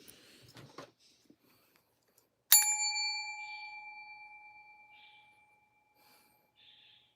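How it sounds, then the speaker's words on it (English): A single bell is struck once and rings out clearly, its bright tone decaying slowly over several seconds in a quiet room, preceded by faint breathing and small movements. "You know I love to do that, Mandy, with my bell."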